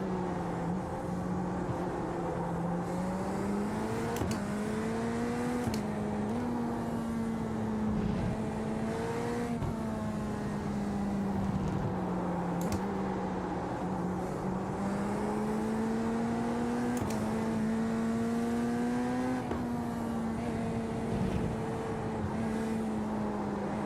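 A race car engine in a video game holds full throttle for a long stretch, a steady droning whine whose pitch rises and dips slightly with gear changes, loud and continuous with no talk.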